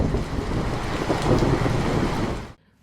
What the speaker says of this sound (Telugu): ఒక రాత్రి భయంకరమైన ఉరుములతో మెరుపులతో ధారాపాతంగా వర్షం కురుస్తుంది.